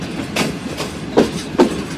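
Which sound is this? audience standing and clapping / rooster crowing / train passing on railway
train passing on railway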